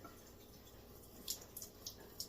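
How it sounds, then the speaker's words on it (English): Water running over a silicone brush-cleaning pad while makeup brushes are cleaned, a quiet steady trickle with several small splashy drips toward the end. "the water is water going over my silicone pad"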